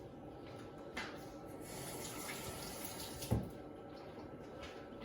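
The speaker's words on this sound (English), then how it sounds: "And I'm just going to wash my hands." Hands are washed under a running kitchen tap, a faint, steady stream of water with a couple of small splashes and knocks.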